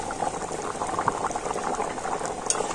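Potatoes boiling in a covered pot, a steady bubbling simmer with dense small pops and gurgles at an even low level, heard alone.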